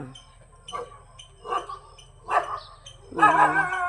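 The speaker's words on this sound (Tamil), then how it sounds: "நாய் வேற குறைச்சிக்கிட்டு இருக்குங்க அந்த அந்த வீட்டு நாய்" A house dog barks in short separated bursts, four loud barks at intervals, the last one longest and strongest, with quiet background hum and no talk over it.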